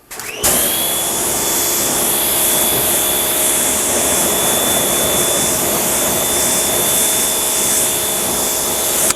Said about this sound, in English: I always start by rinsing the wheel first, get it a little bit wet.